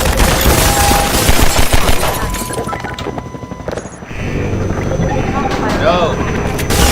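Rapid gunfire aimed at a helicopter in Half-Life 2 mixes with the chopper's drone, crashes and shattering impacts. Loud sustained bursts run throughout, with a player talking over the action.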